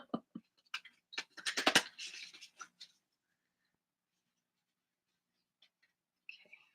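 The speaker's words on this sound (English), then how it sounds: "I do not enjoy the sound of shuffling. And it is loud on the table next to the microphone." A quick burst of papery riffling and soft slaps as cards are shuffled on a table close to the microphone, then near silence with a couple of faint taps.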